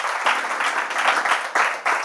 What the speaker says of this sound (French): On peut applaudir tout de même.